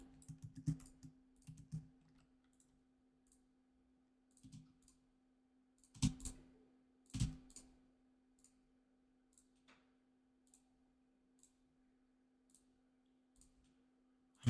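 Soft, sparse bursts of typing on a computer keyboard, clusters of quick clicks separated by long quiet pauses over a faint steady hum.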